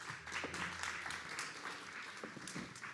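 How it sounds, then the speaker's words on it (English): An audience at a SXSW panel event applauding, a steady, fairly faint wash of many hands clapping together throughout, with no one speaking over it. "Let's give them a round of applause, please."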